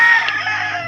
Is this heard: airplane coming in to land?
no